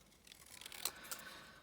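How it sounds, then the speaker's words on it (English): A few crisp metallic snips from a pair of scissors, quiet and close, with a soft rustle between cuts. "for this sort of cutting I do like to use my larger scissors"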